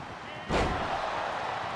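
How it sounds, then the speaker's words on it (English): A wrestler is slammed onto the mat in the WWE 2K24 video game, a single heavy broadband thud that hits abruptly mid-clip and leaves a sustained crowd roar behind it. "Becky gets slammed on the mat"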